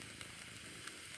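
Chuck steak and potatoes sizzle and fry over the fire of a homemade outdoor stove, a steady broadband crackling hiss that stays close and even throughout with no voices.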